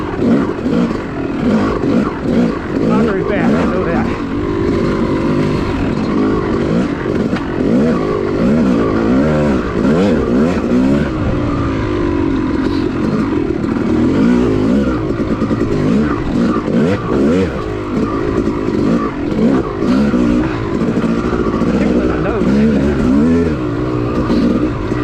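A motorcycle engine lugs along an OHV cycle trail in a higher gear, a loud, continuous low rumble with small rises and dips in throttle throughout, close to the rider and without talk.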